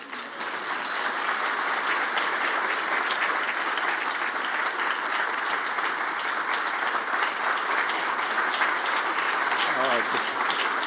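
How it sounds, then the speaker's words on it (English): Sustained, dense applause from a large crowd, steady and loud throughout with no pause, a voice faintly audible near the end. "Thank y'all for standing and applauding"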